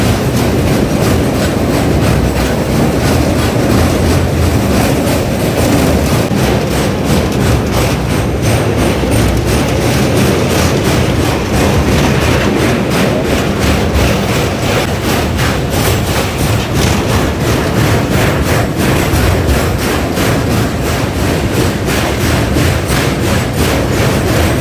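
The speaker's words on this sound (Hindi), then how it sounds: "अपनी ट्रेन ने घाघरा रिवर को भी पार कर लिया है" A passenger train, the Amritsar–Jaynagar Saryu Yamuna Express, crosses the Ghaghara river bridge at the Uttar Pradesh–Bihar border, heard from on board as a loud, steady rumble with continuous rhythmic wheel clatter throughout.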